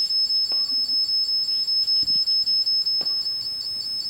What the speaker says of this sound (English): can you make that stop beeping?